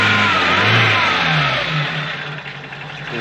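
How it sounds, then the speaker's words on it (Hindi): A warmed-up car engine, treated with Roger Engitech ceramic, revs loudly and close, its pitch rising and falling through a few throttle blips over a steady mid-range drone, with no talking. "इंजन मोटा मोटी वार्म अप हो गया है।"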